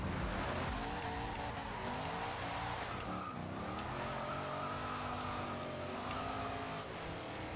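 A drift truck in Forza Horizon 2 slides with a long continuous tire squeal over a loud engine drone, the pitch bending midway as the skid shifts, sustained and close throughout.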